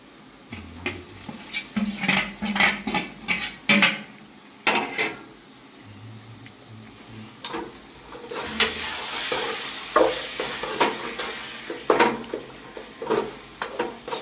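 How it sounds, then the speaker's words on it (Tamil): Eggplant frying in a pan for kuzhambu, an eggplant curry: a steady sizzle runs under repeated scraping stirs, with spoon clinks and knocks against the pan in an uneven rhythm. "இனி கத்திரிக்காய் போட போகிறோம்."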